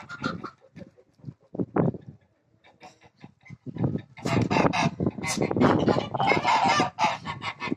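Ducks bathing in water drawn from a pump in a village yard quack and honk loudly and close by. Calls come in scattered bursts, then build into a dense, overlapping chorus.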